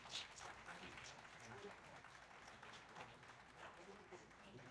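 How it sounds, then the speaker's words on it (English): Diners at a Memorial Day breakfast applaud the senior center cafe staff, a soft, steady spread of clapping from a room of people with some crowd murmur mixed in. "Let's give them a round of applause."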